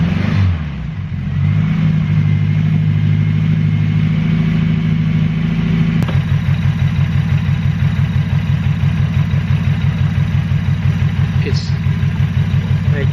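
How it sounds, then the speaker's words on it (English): A car engine runs roughly with faulty injectors. The idle is loud and shaky, with a pulsing, uneven throb that settles into a steady, lumpy rhythm, and someone talks over it. "You can see how shaky the engine is because it ain't running properly."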